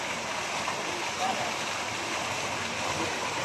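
A colorful water fountain at night sends out a steady, dense rush of falling and splashing water, continuous and fairly close, with no clear voices above it.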